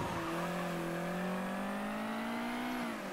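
A stolen car drives in the video game Mafia 3, its engine holding a steady, rising tone throughout, fairly loud and alone with no talk.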